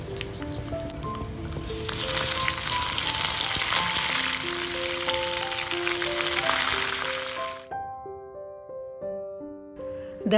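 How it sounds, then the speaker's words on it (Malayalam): Mustard seeds, dried red chillies and curry leaves crackle and sizzle hard in hot coconut oil, a loud, busy frying hiss that cuts off abruptly near the end, with some quieter clinks and tones afterward. "വെളിച്ചെണ്ണ ഒന്ന് ചൂടായി വരുന്ന സമയം ഇതിലേക്ക് 1/2 ടീസ്പൂൺ കടുക് കൂടെ ചേർത്ത് കൊടുക്കാം."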